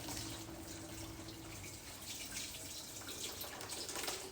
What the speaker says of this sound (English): you take all of that liquid and you pour it through